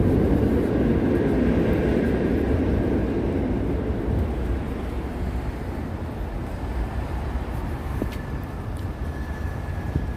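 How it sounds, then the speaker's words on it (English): New York City subway train rumbling below street level, a broad low roar that is strongest at first and slowly eases off, with faint thin squeals and clicks from street traffic above, no talking. "We hear subway down there, same lines, yellow lines"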